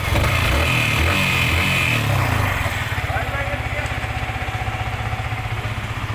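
Yamaha R15 V3 motorcycle engine idling after a master service, close and loud, shifting from a rougher, busier sound into an even, rapid, regular throb for the remaining seconds.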